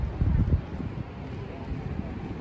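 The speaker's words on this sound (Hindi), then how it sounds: "हवा चल रही है पता नहीं आपको आवाज़ आ रही है कि नहीं आ रही है पर बहुत हवा चल रही है यहाँ पर" Strong evening wind blowing outdoors, a steady low rumble with heavy buffeting against the microphone, loudest at the start and then holding constant.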